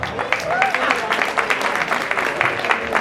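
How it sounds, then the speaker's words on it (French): Audience applause at an investiture ceremony for a new association president, dense and steady clapping from a crowd close by, with a voice briefly heard over it. "Aux applaudissements, le nouveau président,"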